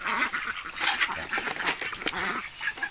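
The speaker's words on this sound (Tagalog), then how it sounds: "mga manok masalo rin sa pagkain ng bibi" Ducks feeding outdoors on a farm keep up a dense, close chorus of quacks and honks, with chickens joining in at feeding time.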